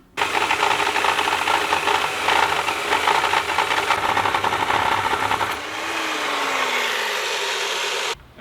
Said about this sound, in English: So I've got it preloaded on my my Jepson dry cutter, so I'm just going to cut myself a piece.